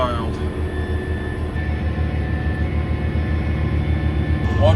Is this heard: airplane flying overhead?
yes